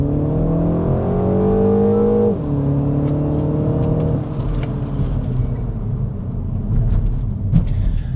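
A 2026 MINI Cooper S with 204 horsepower and a weight of about 1300 kg accelerates hard. The loud engine note climbs steadily, drops briefly at a gear change, then keeps pulling over road and wind noise.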